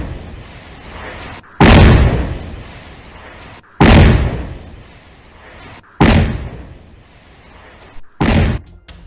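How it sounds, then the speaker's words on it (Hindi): Four heavy, booming explosions ring out a couple of seconds apart as a house is blown up, each loud blast tailing off into rumbling debris. "तो जोरदार धमाके की आवाज आपने सुनी"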